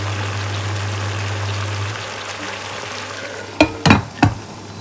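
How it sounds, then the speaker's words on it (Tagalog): Chicken simmers in a covered pan with a soft steady sizzle and a low hum that fades, then three quick clatters, like a lid being handled, near the end. "So, wait pa rin po natin hanggang maluto po ang ating chicken"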